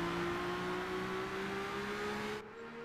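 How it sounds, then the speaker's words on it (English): Race car in Gran Turismo 5 lifting off the throttle, engine note droning steadily and slowly falling in pitch, loud and close, then cutting to a quieter tone near the end. "Nice bit of engine braking there."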